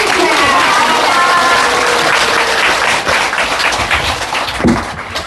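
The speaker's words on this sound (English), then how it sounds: "Let's offer a big round of applause of gratitude." A crowd applauds loudly and steadily, with some voices audible through the clapping.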